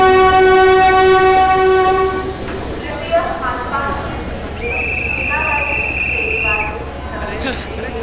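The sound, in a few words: Jodhpur–Mumbai Express train at station, horn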